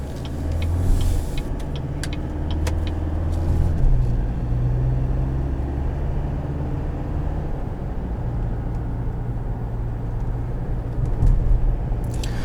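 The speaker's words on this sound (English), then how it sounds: "once you activate tow haul mode, it is not afraid to downshift and slow this thing down." A GMC Canyon Denali diesel pickup in tow haul mode downshifts while slowing, its engine a steady low drone that shifts pitch in steps as gears change, heard from inside the cab without talk.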